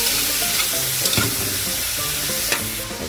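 Pancit canton with chicken, gizzards and liver being stirred in a frying pan: a loud, close sizzle with repeated clanking scrapes of a utensil against the metal, no speech.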